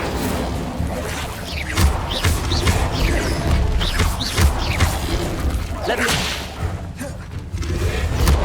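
Incendio fire spell cast in the video game Hogwarts Legacy: repeated sharp whooshing bursts and crackling flares over a busy, loud combat din with thuds and impacts.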